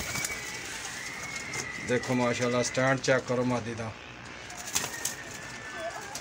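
Teddy and Ferozepuri pigeons for sale in Lahore coo in repeated throaty bursts with brief wing flaps, close by, while someone talks over them.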